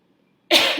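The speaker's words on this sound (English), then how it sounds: "Let me clear my throat." A single short, harsh throat clearing or cough bursts out suddenly after a moment of silence, close and fairly loud.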